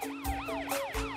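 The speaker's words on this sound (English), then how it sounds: "There's Matt, the police car" Cartoon police car siren wailing in quick, repeated up-and-down sweeps, bright and fairly close, sounding alone over a faint steady tone.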